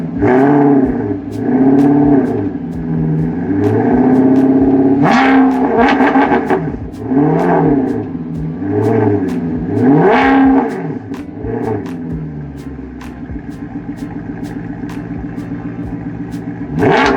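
A Maserati 4.7-litre V8 revs hard in repeated loud bursts, each climbing and falling away. Between the blips the engine settles into a steady, throaty idle, with sharp crackles spiking through as the revs drop.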